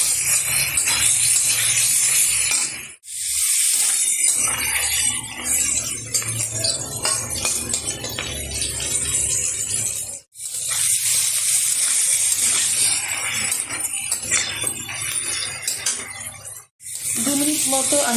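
Chicken pieces fry on high heat with green chillies and are stirred around a pan, making a loud, continuous sizzle with scraping from the stirring that breaks off in a few brief pauses.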